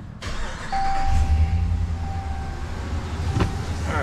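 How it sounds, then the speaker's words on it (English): A 2019 Ram's Duramax diesel engine cold-starts with a sharp crank and then settles into a steady, loud idle rumble heard up close. A thin chime tone rings out over it, and a short click follows near the end. "Starting the engine."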